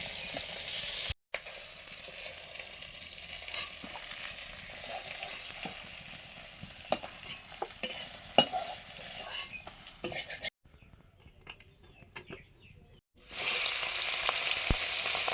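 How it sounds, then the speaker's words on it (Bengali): Oil sizzles steadily as tengra catfish fry in a pan, with occasional clinks and stirring noises; the sizzle drops out briefly near the end, then returns loudly. "ট্যাংরা মাছগুলো ভেজে নিচ্ছি।"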